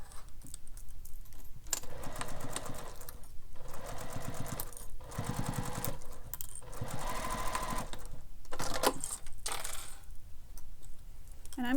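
Sewing machine stitching a wallet, running in bursts of rapid mechanical chatter separated by short pauses, close and clear, with no talking.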